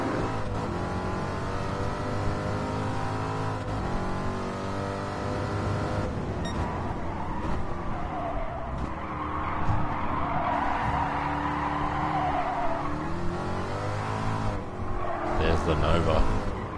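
A C2 Corvette race car roars through a Gran Turismo Sport race, its engine droning and shifting pitch while tires skid and squeal, with other cars audible nearby and steady over the full stretch.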